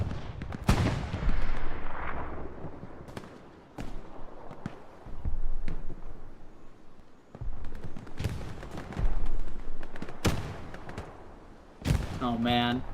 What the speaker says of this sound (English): Oh man, rockets coming in.